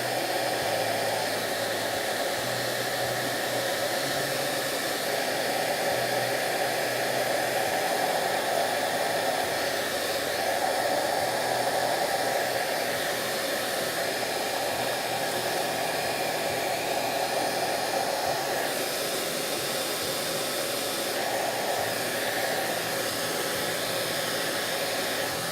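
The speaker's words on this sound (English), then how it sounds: "Put the heat gun to it." A heat gun shrinks a large piece of tubing slid over three soldered wires on a twin-engine build, blowing as one continuous, even roar close by for the whole stretch.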